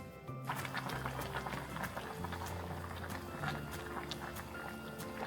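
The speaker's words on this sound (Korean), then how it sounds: "이렇게 넣고 물이 끓을 때까지 강불로 끓여주세요." Braised chicken sauce (dakbokkeumtang) boiling on high heat, a continuous dense bubbling and simmering with small pops, steady and close but quiet.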